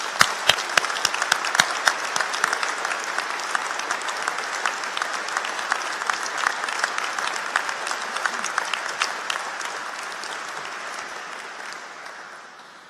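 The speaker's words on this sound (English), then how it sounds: "A big round of applause for the graduates and what they've achieved today." Graduation ceremony audience at Lincoln College applauding the graduates, loud sustained clapping from a large crowd with sharp nearby claps at first, then gradually fading toward the end.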